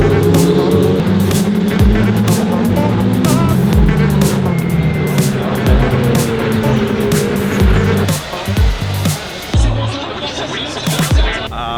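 Formula 1 race cars at the Montreal circuit during free practice roar past one after another, loud and continuous, with a dense high-pitched engine whine and repeated sharp pass-bys toward the end.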